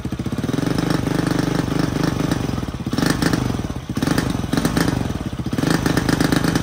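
A small single-cylinder engine in a Polaris RZR 170 under rebuild runs loud and close with a fast, rough pulsing beat, swelling briefly as the throttle is tried and dipping once near the middle.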